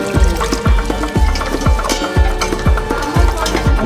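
Water pours into a pot of cooking mango dal, a loud, steady liquid splash with rhythmic bubbling pops running throughout.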